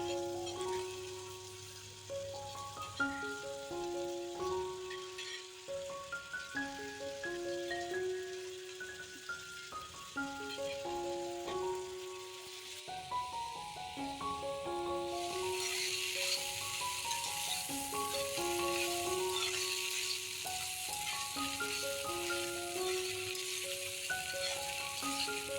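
Koorkka (Chinese potato), precooked and mixed with onions, fries in a covered pan for a mezhukkupuratti with coconut pieces. A steady soft sizzle runs under background music and grows brighter and louder about halfway through.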